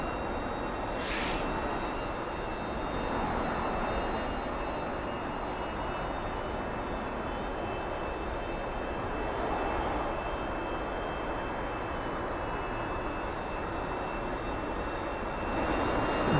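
T-45 trainer jet engine roaring at takeoff in the DCS flight simulator game, a loud continuous broadband rush holding steady throughout, with a short whistling tone near the start.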